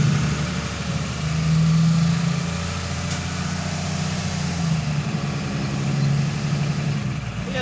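A Lazer Spot shunt truck's engine runs and pulls forward slowly at a quiet loading dock, a steady low diesel rumble that swells briefly, alone and close by.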